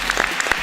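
Brief burst of audience applause at a stage event, scattered claps heard close for well under a second.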